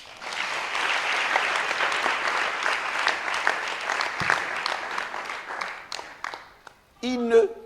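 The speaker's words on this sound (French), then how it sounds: "Là, tu devais acclamer le Seigneur" A church congregation applauding and acclaiming the Lord, a sustained wash of loud clapping that gradually thins and fades, followed by a short burst of voices at the end.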